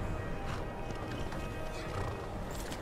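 Steady clip-clop of horse hooves over a constant low rumble, with an occasional whinny, sounding like a game soundtrack.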